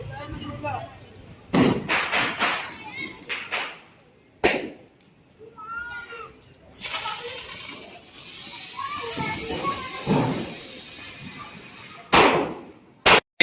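Sharp butterfly firecracker bursts crackle in quick clusters at a Diwali celebration, followed by a longer hissing, fizzing spray; children's voices chatter in between the pops.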